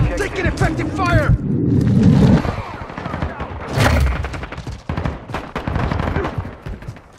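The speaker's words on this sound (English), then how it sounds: "Taking effective fire!" Gunfire in Call of Duty: Modern Warfare II Headquarters mode at Shoot House, with bursts of automatic shots and blasts mixed with game voices calling out, loud and busy throughout.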